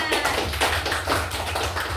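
Classmates in a school classroom clap together in a dense, continuous burst of applause lasting a couple of seconds, loud and close with no talk over it.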